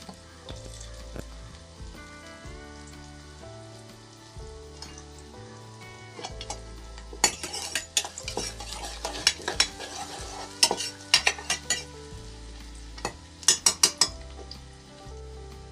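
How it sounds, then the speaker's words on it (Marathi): Chopped onion fries in a pan with a steady sizzle, punctuated by sharp, irregular scrapes and clinks of a spoon stirring it, growing busier and louder in the second half, with no talking. "कांदा जो आहे थोडासा आपल्याला ब्राऊन होईपर्यंत भाजून घ्यायचा आहे."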